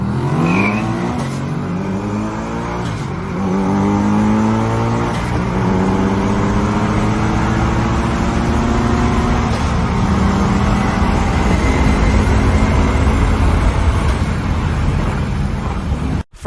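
A boosted Mustang 5.0 with drag pack and a Mitsubishi Evo drag race side by side, engines roaring loudly as the revs climb through the gears, heard close and sustained for the whole run before cutting off abruptly.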